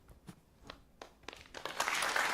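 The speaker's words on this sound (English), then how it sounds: "Not as enthusiastic a round of applause" Sparse claps from a town-centre debate audience swell into a brief, modest round of applause that grows denser toward the end, faint and somewhat distant, with no talking.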